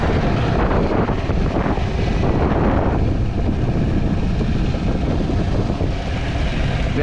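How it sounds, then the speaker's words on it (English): Loud, steady wind buffeting a microphone while riding a light Surron electric dirt bike on a gusty road, a continuous roaring rush with no voices. "This wind is so annoying. Throwing me around everywhere."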